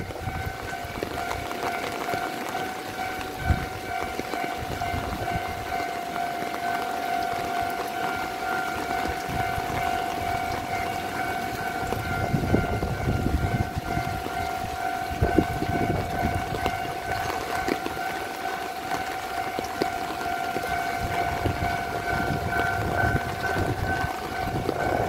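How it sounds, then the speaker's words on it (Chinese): An EMU585 commuter train on the Yilan line passes a level crossing, its steady rumble and clatter rolling on under sustained tonal crossing warning signals, heard without any talk. "有列车准备通过"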